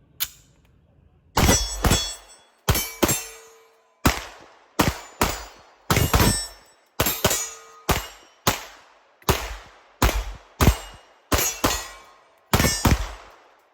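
A Sig P226 X5 Legion 9mm pistol with a compensator fires Winchester 124 grain NATO rounds in a long string of about seventeen loud, sharp shots, evenly spaced with short echoing tails.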